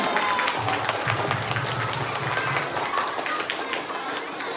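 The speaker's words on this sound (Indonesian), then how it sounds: "Tepuk tangan." Children at an elementary-school anti-bullying and anti-drug awareness event clap together in a loud, steady burst of applause that fills the room, with some crowd noise mixed in.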